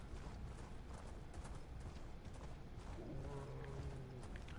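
Hooves of a horse galloping in a fantasy role-playing video game, a fast, continuous clip-clop rhythm heard faintly under game ambience for several seconds.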